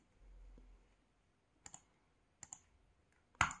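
Three sharp laptop clicks during a Windows 11 install, widely spaced and close, with the last one louder, over near silence.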